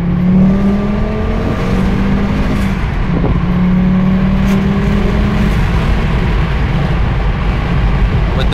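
A turbocharged 2.3 liter Volvo V70R engine on a KMS MD35 engine management unit revs loudly and close, its pitch climbing and falling in several repeated rises over a rough, throbbing idle.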